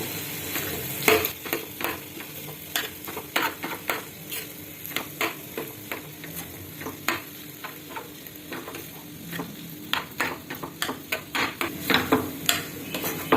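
Cluster beans paruppu usili being stirred in a pan, with repeated close scraping and tapping strokes over a light frying sizzle and no voices.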